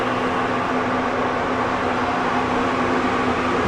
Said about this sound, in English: And that noise you're hearing is actually a drying fan.